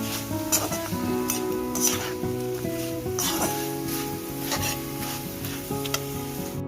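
Flattened rice (chira) sizzles and crackles steadily as it fries in a pan, with a spoon scraping and stirring through it and occasional clinks of metal, close and continuous with no talking.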